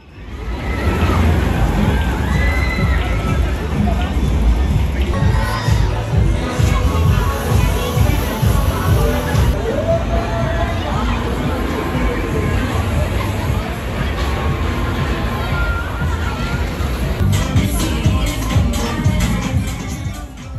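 Crowd of families and children at the Luna Park funfair in Agde, with a steady, loud wash of mingled voices and bustle filling the whole stretch without pause.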